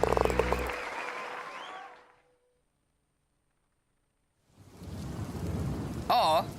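A rain and thunder sound effect plays as a loud rumble and wash of rain, cuts to a few seconds of silence, then returns as steady rain noise with a sharp burst near the end.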